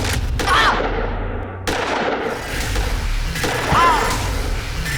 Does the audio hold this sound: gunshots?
yes